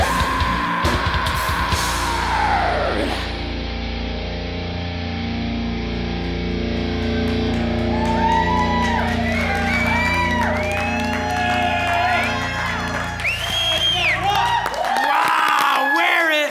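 A live singer, the musical guest on a talk show, belts a raw, distorted scream over loud band music, with sustained and gliding vocal lines rising toward the end.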